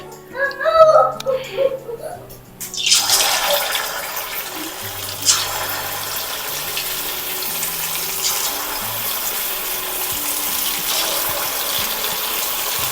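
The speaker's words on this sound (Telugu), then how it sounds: "ఆయిల్ వేడెక్కిందండి మీడియం ఫ్లేమ్లో పెట్టుకొని మనం ఒక్కొక్కటి వేసుకుందాం" Chicken 65 pieces frying in hot oil over a medium flame, with a loud, steady sizzling hiss that starts a few seconds in and continues to the end, following a short stretch of speech.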